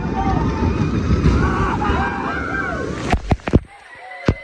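Water rushes and wind buffets during a boat ride on Snake River Falls at Cedar Point, then several sharp splashes hit in quick succession near the end, with voices calling out.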